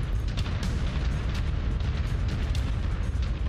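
Fire roaring during a mech battle in MechWarrior 5: Mercenaries, a loud, dense, continuous rumble with crackling bursts throughout and no pauses.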